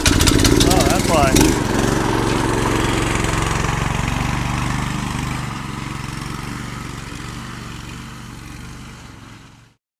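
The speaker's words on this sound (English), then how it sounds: "we got that go-kart off and running" A small go-kart engine runs with a buzzing, mower-like rasp after a brief burst of voices and rattling at the start, then holds a steady idle that slowly fades away to silence.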